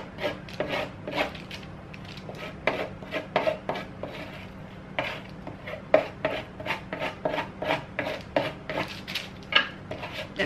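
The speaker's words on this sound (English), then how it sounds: "sort of like scrape the butter with it" A knife scraping butter mixed with Vegemite across toast gives repeated short, rasping strokes in an irregular rhythm, close and moderately loud, with no talking.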